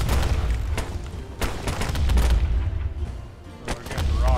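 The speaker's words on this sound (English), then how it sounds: "Fire all cannons!" Ship cannons fire in the pirate extraction video game Captain & Company, a dense barrage of booming blasts and impacts layered over constant low rumble, loud and close.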